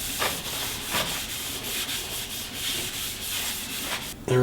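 Steady, soft rubbing hiss of walnut oil being worked onto a wooden lightsaber spinning on a lathe, continuous and close with faint periodic swishes and a brief knock at the end.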